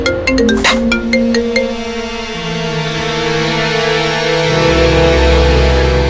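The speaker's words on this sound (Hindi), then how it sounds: "शायद उसी का फोन होगा।" A loud phone ringtone plays a bright electronic melody of sustained tones, with no voices.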